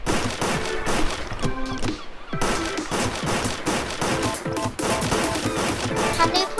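Rapid video game gunfire blasting at chip-o-mat targets, dense repeated shots in continuous bursts with a short lull near the middle, loud and up close.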